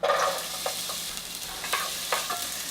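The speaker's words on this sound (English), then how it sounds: "After things heat up, add some onions." Onions frying in olive oil over medium heat give a soft, steady sizzle, broken by several scraping strokes as they are stirred around the pan, heard close and alone.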